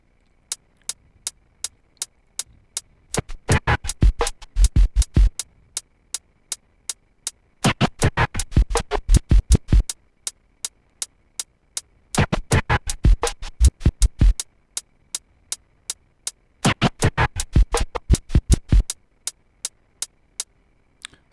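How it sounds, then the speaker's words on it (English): Vinyl record drum scratching, a reverse baby scratch on the kick drum, laid over a steady hi-hat pattern: four loud bursts of rapid scratch strokes alternate with stretches of just the evenly ticking beat, with no talking. "this is like a reverse baby scratch with the kick drum"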